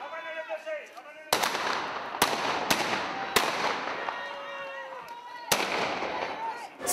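Firecrackers go off at the Castellane pétardier festival in Provence: about six sharp, loud bangs crack out one after another, each ringing briefly over a busy outdoor background.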